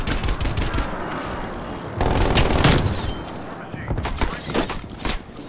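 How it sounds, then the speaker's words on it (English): Bursts of rapid gunfire crackle in volleys, with heavier blasts around the middle and scattered shots near the end, all from Call of Duty: Black Ops Cold War. "where are those gunshots coming from?"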